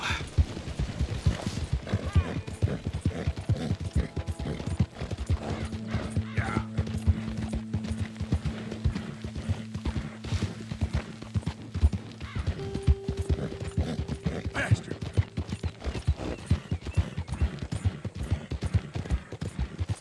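Horse hooves clip-clop steadily through a long stretch in Red Dead Redemption, the rhythmic clopping near and persistent, with an occasional whinny and sustained game tones layered over it.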